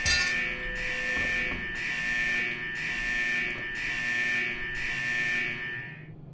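An alarm tripped in the video game Fallout Equestria Remains, sounding as a loud electronic buzzer in five regular pulses over a steady hum, with no talking.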